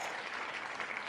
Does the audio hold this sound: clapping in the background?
yes